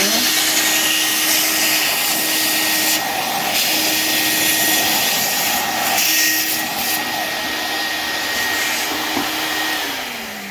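A vacuum cleaner sucks leftover toner out of a Fuji Xerox Apeosport developer unit. Its steady whining drone runs unbroken for about ten seconds at close range. Faint tonal hums start and stop beneath it, and nobody speaks.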